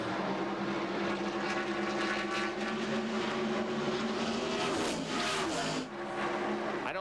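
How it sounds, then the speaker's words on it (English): Several 1993 NASCAR stock cars roar down the backstretch of a speedway in a sustained, loud, steady drone of high-revving V8s, with a brief dip and shift near the end as cars pass. "Morgan Shepherd slides up the racetrack and comes very close to Jeff Gordon as they go down the backstretch"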